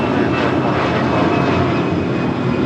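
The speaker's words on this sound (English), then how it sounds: "Dreamliner about to touch down on 25 left." A Dreamliner descends toward runway 25 left at LAX, its engines a loud, close, continuous roar with no pauses across the brief moment.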